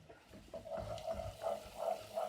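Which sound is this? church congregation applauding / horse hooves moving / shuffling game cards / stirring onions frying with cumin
stirring onions frying with cumin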